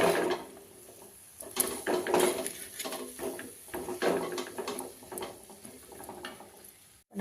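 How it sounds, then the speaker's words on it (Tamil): Pumpkin pieces are stirred into masala in a pan, a spoon scraping and clanking against the metal in irregular bursts, close and fairly loud, with short pauses between strokes. "நம்ம அரசாணிக்காய் எடுத்து கொட்டிடலாம். இந்த மசாலாவில் கொஞ்சம் நல்லா பெரட்டி விடலாங்க."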